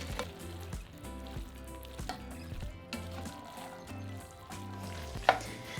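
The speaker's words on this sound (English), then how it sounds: "Add in 2 tablespoons of tomato puree or paste and stir." Beef ragu sizzling in a pan as tomato paste is stirred through it, a steady frying hiss with soft scraping stirs and one sharp clink near the end, fairly close and without speech.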